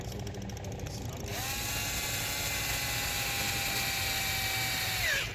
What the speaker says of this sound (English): now what we're going to do is drill everything in from underneath